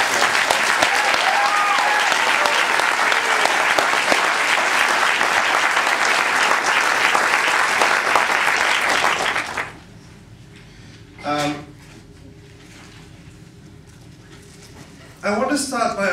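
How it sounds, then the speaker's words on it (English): A conference audience at a campus BDS gathering bursts into loud, dense applause that carries on steadily for about ten seconds, then stops abruptly, leaving a quiet room broken by a couple of short sounds. "I think we should have a round of applause"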